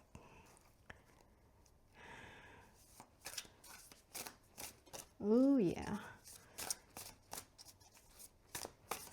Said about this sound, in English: I feel like I'll lose some cards if I'm not careful shuffling